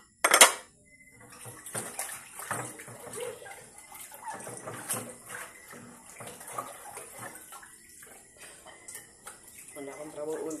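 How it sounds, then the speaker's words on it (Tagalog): Dishes washed by hand at a sink with running water: plates and cutlery clink and clatter irregularly against the steady splash of the tap, with a louder clank at the start and voices over it. "maghugas og plato kada gabi"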